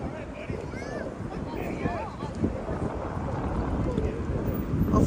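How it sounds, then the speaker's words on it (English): Gusty wind buffeting the microphone outdoors in a downtown Toronto park, rumbling low and uneven, with people talking over it. "Hopefully the wind dies down a little bit."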